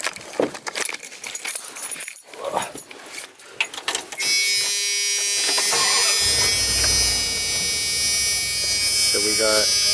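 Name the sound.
van engine starting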